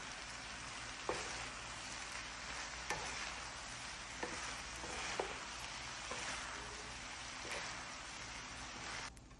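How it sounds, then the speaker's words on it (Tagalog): Cooked, drained rice gets stirred into vegetables in a hot pan, giving a steady sizzle and frying hiss with occasional scraping clicks of the spoon, continuous and close with no talking. "At ngayon ilalagay ko na dito sa vegetable. Ayan, at i-mix ko na siya."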